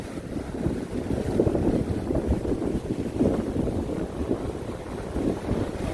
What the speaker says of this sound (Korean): 파도가 이 바위를 예, 덮치고 예, 넘어오고 있습니다